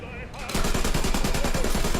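War Thunder tank battle combat: a quiet start gives way at half a second to a rapid burst of repeated gunfire and explosive impacts, loud and rhythmic, continuing to the end.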